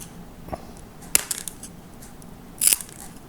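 Glass nippers cut mosaic glass pieces for a suncatcher, making a few sharp, close snaps and crunches spaced over a few seconds against a quiet background.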